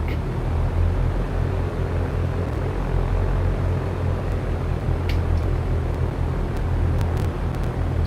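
Airplane taxiing in the X-Plane 11 flight simulator, a steady low engine drone and rumble holding even throughout, with a few faint clicks near the end.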